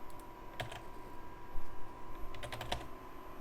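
Keys clatter on an old PS2 computer keyboard attached to a 2000s-era PC, a steady run of close, light clicking keystrokes over a faint machine hum, with no talking.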